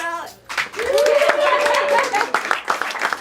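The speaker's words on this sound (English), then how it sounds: "Let's give a round of applause for Alex." Audience clapping at a stand-up comedy show, a loud burst of applause rising quickly and holding steady, with a voice briefly speaking over it and a sustained tone running through the middle.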